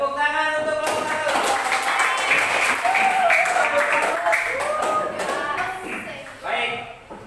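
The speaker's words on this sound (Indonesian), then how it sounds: "Tepuk tangan untuk kelompok 1." Classroom applause for a student group during a teaching practice session, a dense wash of many hands clapping steadily for several seconds before thinning out near the end, with some voices mixed in.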